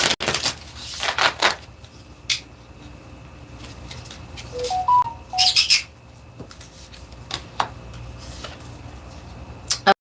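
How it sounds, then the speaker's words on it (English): Pet bird plays with a jingle ball in the background, giving scattered light ticks and jingles plus a few brief chirps, faint and irregular. "My little bird's having a party back there in the background with his jingle ball."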